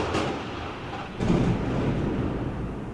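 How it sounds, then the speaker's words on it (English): Loud thunder from a storm, a deep rumble that swells suddenly a little past a second in and rolls on steadily to the end, heavy and close. "That was a loud bit of thunder."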